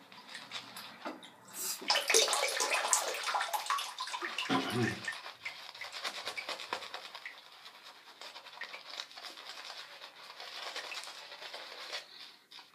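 Wolfpac shaving soap being worked into a lather, giving a close, wet, bristly swishing and pattering that swells early on and then carries on more softly to the end, with no voices.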